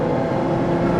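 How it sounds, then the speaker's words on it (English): Ferrari LaFerrari 950+ bhp V12 engine running, a loud, steady, dense roar that holds without a break through the whole second, with no voices. "There's a lot of noise from the V12 engine going on behind me"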